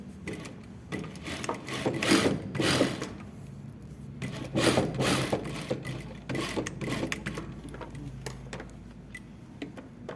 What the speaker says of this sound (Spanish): Voy a coser por el lado al revés, así mismo por el ancho del pie de la tela.